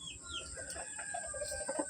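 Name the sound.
hen clucking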